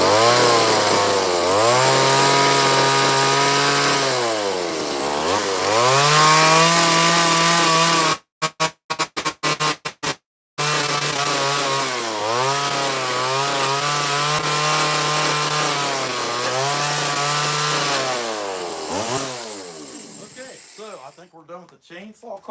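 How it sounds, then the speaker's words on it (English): A chainsaw carves a wooden sculpture, its engine whining and bogging in long repeated cuts, loud and close, with a brief choppy dropout midway and the motor winding down at the end. "We're done with the chainsaw carving part of this."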